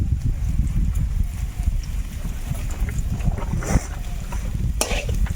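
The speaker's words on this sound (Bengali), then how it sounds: "আলুটা প্রথমে দেব আলুটা একটু ভেজে নেব হলুদ দেব লবণ" Potatoes fry in a pan with turmeric and salt, a low rumbling sizzle under repeated clattering stirs and occasional sharp knocks of the spoon against the pan, close by and without speech.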